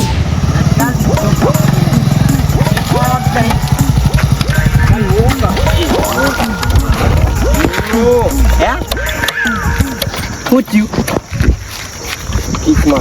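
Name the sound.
motorcycle engine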